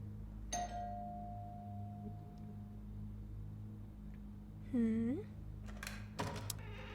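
A doorbell rung in the Teleforum video game, a single sharp ding that sustains and fades, followed later by a brighter warbling chime and a few faint clicks over a low hum.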